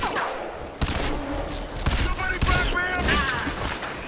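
The Typhoon, an extremely fast-firing gun in the Crysis 3 video game, sprays dense streams of bullets in bursts, with sharp impacts and a steady rattling roar while someone talks over it.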